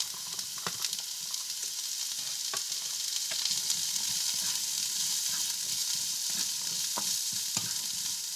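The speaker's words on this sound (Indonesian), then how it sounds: "Tumis sebentar semua sayuran." Close sizzling from vegetables stir-frying in a wok with a little oil, occasional scraping clicks of stirring, a steady crackling frying sound and no voices.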